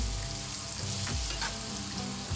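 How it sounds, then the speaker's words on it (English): Chopped onion sautéing in a pan, a dense close sizzle with faint stirring scrapes running throughout, no talking. "saute that a little bit"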